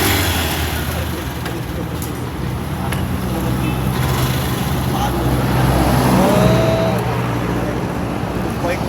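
A Yamaha YTX motorcycle engine runs steadily after its rusted throttle cable was replaced. The idle is loud, close and continuous, with a voice talking over it.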